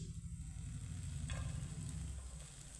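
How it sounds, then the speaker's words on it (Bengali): Chopped green chillies fry in a spoonful of hot white oil in a frying pan, giving a steady, close sizzle with a faint tick of stirring. "আমার তেলটা গরম হয়ে গেছে এখন আমি দিয়ে দিব এখানে কাঁচা লঙ্কা কুচি"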